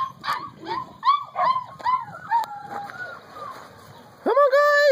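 Several six-week-old puppies yip and whimper in short, high-pitched bursts, close by, with a louder whine at the end.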